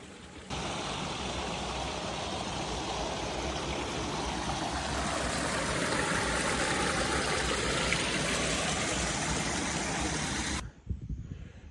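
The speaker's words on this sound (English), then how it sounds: "Very nice little wide part of the river here." Steady broadband rush of a flowing river, continuous and close, with no voices, ending abruptly near the end.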